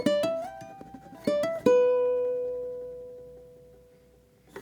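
Ukulele plays a short lick of plucked notes, two of them held with a wide, exaggerated vibrato. The last note rings and fades slowly, close and with no voice over it.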